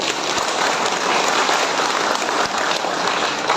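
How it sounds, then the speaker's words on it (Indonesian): Audience clapping at an official government ceremony in Badung, Bali, a dense and steady roomful of applause that holds at an even level for the whole stretch, with no voices above it. "Kita berikan tepuk tangan."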